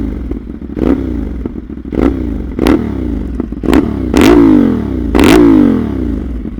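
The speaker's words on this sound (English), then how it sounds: "Let's just hear the bike for a bit." A 2023 CFMOTO 450SR motorcycle engine idles and is blipped in a series of sharp revs, each rising and falling quickly, with a couple of longer, louder pulls near the end and no talking.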